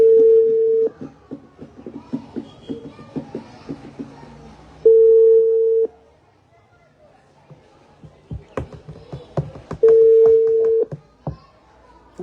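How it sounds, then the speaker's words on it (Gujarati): A telephone call goes unanswered: steady ringback tones sound in three long bursts, loud and close, separated by gaps filled with clicks and faint background chatter. "લાગતો નહીં કે કોઈ ફોન ઉઠાવે"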